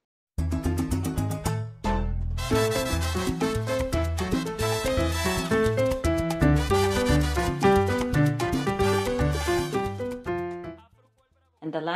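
Piano plays a four-note salsa montuno along with a full salsa recording, its syncopated chord pattern riding over bass, percussion and horns in a dense, driving mix that cuts off briefly near the start and fades at the end.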